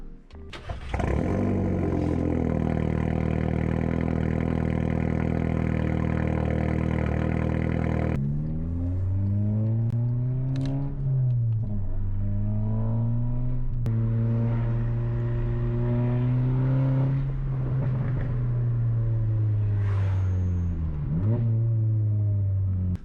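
A Volkswagen Golf R engine, on its exhaust before a CTS Turbo catback is fitted, revs hard at first with a loud roaring exhaust, then settles into a rumbling idle punctuated by several sharp throttle blips rising and falling.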